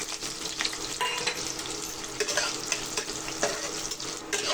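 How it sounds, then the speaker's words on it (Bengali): Onions fry in hot mustard oil in a wok with cumin and dried chillies, a steady close sizzle broken by occasional stirring scrapes and clatters, with no voices. "এরপর কড়াইয়ে সরষে তেল গরম করে জিরা, শুকনো লঙ্কা ফোড়ন দিয়ে এগুলোকে একটু ভেজে নিয়ে পেঁয়াজ ভাজবো।"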